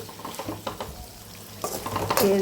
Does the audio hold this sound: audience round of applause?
no